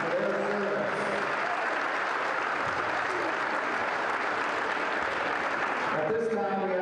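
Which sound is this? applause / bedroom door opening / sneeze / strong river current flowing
applause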